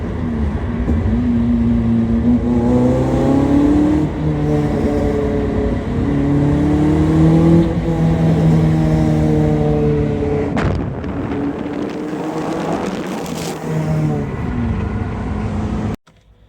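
Ginetta G40 sports car engine driving on a road, a steady loud drone with rising and falling revs through gear changes, alone for about sixteen seconds before cutting off.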